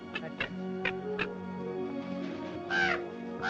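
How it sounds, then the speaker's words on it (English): A crow caws over a field, several sharp harsh calls in quick succession, near and clear, with a low steady drone underneath. "I can't even scare a crow. They come from miles around just to eat in my field"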